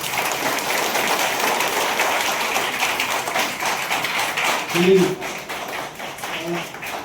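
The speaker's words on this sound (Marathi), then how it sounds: "तुमच्या स्वतःसाठी टाळ्या वाजवत" Applause from a crowd gathered at a village council campaign guidance event in Maharashtra, a steady dense clapping that runs through the whole stretch, with voices talking beneath it.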